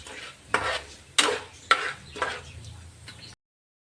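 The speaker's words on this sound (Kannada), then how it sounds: "ಈಗ ನಾನು ಇದಕ್ಕೆ ಕೊತ್ತಂಬರಿ ಬೀಜ ಮತ್ತೆ ಜೀರಿಗೆನ ಸೇರಿಸ್ಕೊಳ್ತಾ ಇದ್ದೀನಿ. ಇದನ್ನು ಕೂಡ ಈಗ ಚೆನ್ನಾಗಿ ಫ್ರೈ ಮಾಡ್ಕೊಳ್ಳೋಣ." Coriander seeds and cumin are stirred in a pan, with a few distinct scraping strokes of a spoon against the metal over a faint sizzle, fairly close and with no talking.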